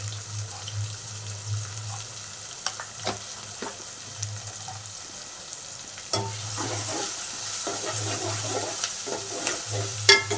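Spices with two tablespoons of turmeric fry in hot oil for an aubergine and potato curry, giving a steady close sizzle with scattered stirring scrapes and clinks throughout, a little stronger in the second half.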